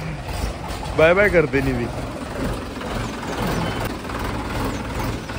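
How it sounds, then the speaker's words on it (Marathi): A tractor engine rumbles low and steady in the background as it arrives, mostly masked by a child's and an adult's voices talking over it. "ते बघा आवाज येतोय. आला आला आला."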